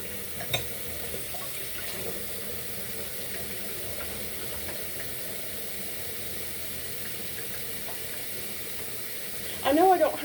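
Tap water running steadily into a sink while warming up, a faint continuous hiss, with a brief louder splash near the end.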